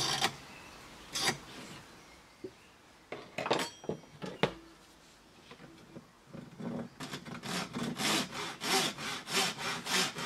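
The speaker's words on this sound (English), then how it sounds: "I use a fine tooth tenon saw, and once the cut is established, I lean the saw back to follow my line." Fine tooth tenon saw cutting wooden display rails for a museum display, starting with scattered short scrapes and knocks, then settling into a steady rhythmic back-and-forth sawing close by.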